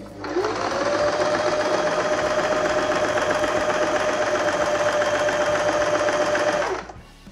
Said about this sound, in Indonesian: Ini pola zigzagnya sama, cuman yang kita atur adalah si lebar jahitan zigzagnya.